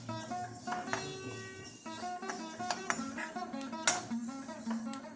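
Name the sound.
sesame seeds popping while roasting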